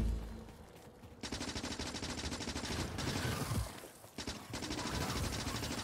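Guns fire at biters in the video game Factorio, a dense, rapid automatic rattle that sounds near and continuous, with a brief lull partway through before the firing resumes.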